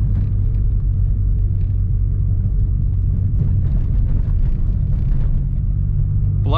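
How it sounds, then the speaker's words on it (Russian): A Mitsubishi Evo 8 rolling slowly over rough off-road ground, heard from inside as a steady deep rumble of engine and tires with no sharp knocks or clatter. "сейчас мы едем по небольшому такому бездорожью"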